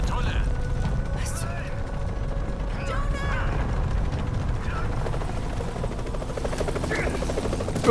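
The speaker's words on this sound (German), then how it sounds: "Aber endlich haben wir einen Hubschrauber." A helicopter in the video game Shadow of the Tomb Raider makes a steady, close rotor thrum under mechanical clanks and whirs, with faint game sounds layered over it.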